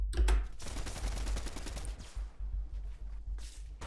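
Automatic SMG and AR fire sprays in rapid bursts during a Fortnite duo cash cup match, dense crackling shots up close with a few pauses, over the game's steady background sound.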